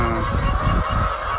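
Caged chickens on a poultry farm with battery cages make a dense, loud clucking and squawking chorus close by, continuous through the short moment.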